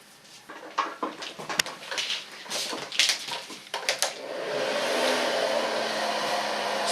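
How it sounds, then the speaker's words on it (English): A hair dryer blows on short, freshly coloured hair styled with foam, its steady airy whoosh starting partway through after a stretch of rustling and handling sounds nearby. "Gonna blow dry it"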